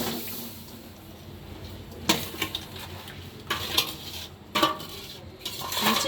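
A spatula stirs a sugar-coated pickle in a kadai over a low sizzle, with a few distinct scraping and clanking strokes against the metal pan spaced a second or two apart.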